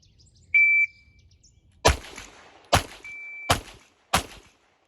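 Four sharp handgun shots fired from a low ready position in an outdoor shooting range drill, evenly spaced about a second apart and loud, preceded by a brief electronic shot-timer beep.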